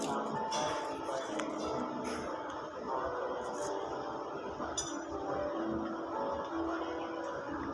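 A spoon clinks lightly against a cappuccino cup while sugar is stirred in, with several faint, irregular taps over a background of restaurant murmur.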